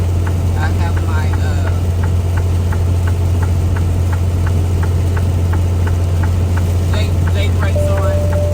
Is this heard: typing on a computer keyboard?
no